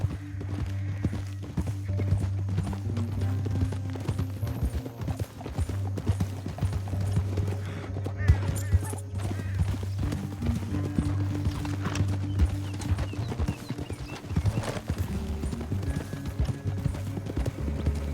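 Steady clip-clop of horse hooves at a lively pace in the video game Red Dead Redemption 2, with a low hum of background music and an occasional whinny.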